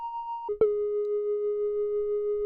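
A flute-like FL Studio 3X OSC synth tone with vibrato plays a short higher note, then drops to a lower pitch that holds steady and clear for about two seconds, heard alone.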